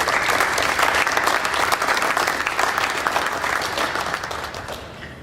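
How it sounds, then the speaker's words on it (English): Audience applause at an SAE 40th anniversary event, a full room clapping steadily and loudly throughout, tapering slightly at the end with no talk over it. "let's have a round of applause for Captain."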